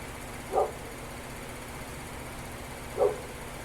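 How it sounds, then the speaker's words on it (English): A dog out in a backyard barks twice, each a short muffled bark several seconds apart, heard at a distance over steady background hum. "He's in the backyard, probably barking at a leaf."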